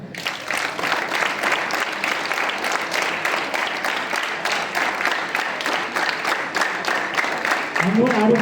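Students at a school assembly clap in a fast, loud, fairly uniform burst that carries on for several seconds, with a low voice briefly breaking in at the very end.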